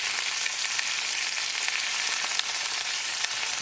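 Chicken breast frying in a pan on medium-low heat gives a steady, close, even crackling sizzle with scattered small pops and no voices.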